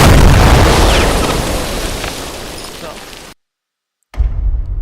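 Arc cannons firing in the game The First Descendant, loud booming blasts with rumbling tails, a brief silent gap, then another heavy burst.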